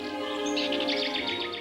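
Two crows calling near a grand palace tree, heard as a run of repeated bright chirping calls over a steady tonal background, close and fairly clear.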